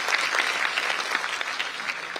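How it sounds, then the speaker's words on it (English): An audience at a Parul University event gives a steady round of applause, a dense wash of many hands clapping with no let-up. "huge round of applause for such visionary thoughts"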